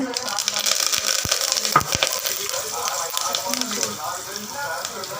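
Split dried red chillies and curry leaves sizzling in hot oil for tomato rasam, a steady crackling fry with a few sharp pops, heard close beside a person talking.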